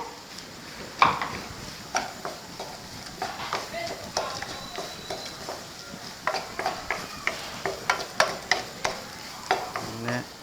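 Fried chicken and chopped cabbage with onion are stirred in a pan, a spatula scraping in steady repeated strokes over a soft sizzle, close and fairly loud, with no talking.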